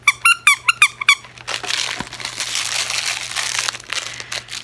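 A plush goat toy squeaks in a quick burst of about six sharp, close squeals, then gives way to a steady, crackly crinkling as it is squeezed and handled.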